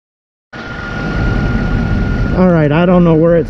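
A car engine starts and runs at idle, most likely a Cadillac CTS or a Mercedes E550 with a cracked manifold, a loud steady rumble with a faint whine, joined partway through by someone talking over it.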